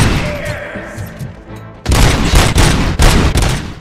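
Gunfire in RoboCop: Rogue City on PS5 during a bank heist, shots ricocheting off surfaces: dense, loud rapid bursts of shots after a quieter stretch of background game sound.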